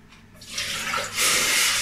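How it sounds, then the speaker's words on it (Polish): Water pours steadily into a pot, a rushing splash that swells louder partway through and keeps running, close by with no talking. "wlewamy wodę"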